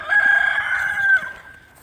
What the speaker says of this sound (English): That's our one adult dominant rooster